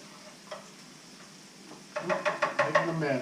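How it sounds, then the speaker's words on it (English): Tomato paste frying with vegetables in a pan for a redfish étouffée, quiet at first, then a burst of loud sizzling and scraping stirs in the second half. "Kind of fry that in with all the vegetables."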